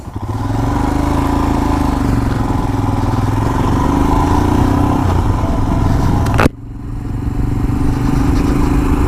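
A Royal Enfield Himalayan motorcycle engine drones steadily while riding, loud and close with a continuous low rumble, then drops abruptly near the end before building back up.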